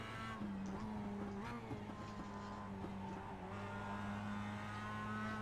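A Mazda race car in the iRacing sim at Road America drones at steady engine pitch down a straightaway, its tone shifting slightly with throttle and gear changes, continuous and moderately loud.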